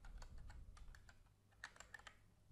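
Quick, faint clicks of fingers typing on a computer keyboard as a domain name is entered, in an irregular rhythm of closely spaced keystrokes with no voices.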